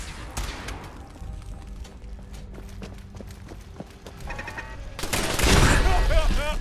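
Gunfire from an automated turret in Fallout 4 crackles in repeated bursts amid busy game sounds, with a louder, denser burst of shots and impacts near the end; no one speaks.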